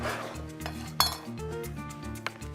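Ciabatta bread halves set down on a metal sheet pan make light knocks and scrapes, with one sharp metallic clink near the middle and another toward the end, heard close up and without speech.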